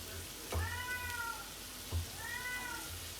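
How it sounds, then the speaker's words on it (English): A cat meows twice from another room in a kitchen where taco meat is being cooked, each call a rising-then-falling wail, with faint background hum and a soft thump at each call. "for God's sake, the cat's dying in there."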